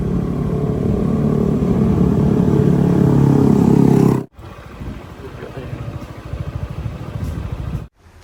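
A new motorcycle's engine drones steadily while riding a smooth road, with loud continuous wind rush that cuts out abruptly, then resumes more quietly with a rougher engine rumble.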